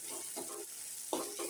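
Asafoetida dropped into hot oil on a low flame while tempering a dhaba-style dal palak, giving a soft frying sizzle with stirring bursts and a sharper flare of crackle near the end.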